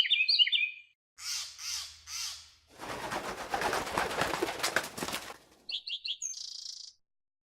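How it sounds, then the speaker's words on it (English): Bright, high bird chirps come in short bursts, then a dense rush of flapping and squawking from a flock, followed by a few quick tweets. "Now let's add in the callback from the other birds"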